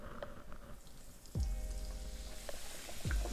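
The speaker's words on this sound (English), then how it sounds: "we're gonna go ahead and put some more in the skillet" Fish frying in a hot skillet, a continuous hiss and crackle of oil with sharper sizzling bursts as pieces hit the pan, close and fairly quiet, no talking.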